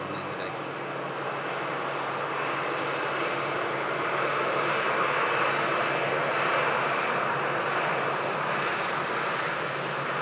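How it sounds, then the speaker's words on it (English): An Emirates A380 airliner taxis toward runway 23 at Manchester Airport, its jet engines producing a steady, broad roar that swells slightly midway and holds at a fairly constant level from a moderate distance. "Emirates A380 continuing the taxi to the start of runway 23 right here at Manchester International Airport"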